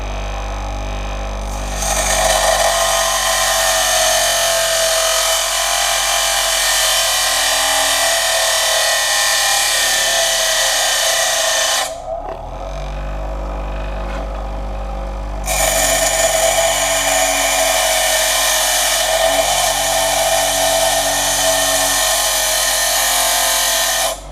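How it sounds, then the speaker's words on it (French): Steady, loud whine of a bench grinding wheel eating into a steel dagger blade, running for long stretches with a short break mid-way where the blade lifts off, and a low motor hum underneath throughout. "on fait tourner la meule"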